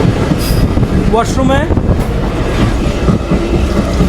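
The Mongla Commuter passenger train runs along the tracks with a steady rumble and rattling, heard from inside near the washroom, while someone speaks briefly over the noise.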